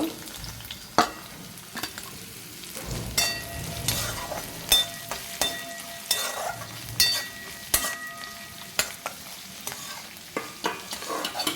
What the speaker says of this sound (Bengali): আমি কড়াইতে তেল দিয়ে দিয়েছি আর তেলটা গরম হয়ে গেছে আমি এখানে পেঁয়াজ দিয়ে দেব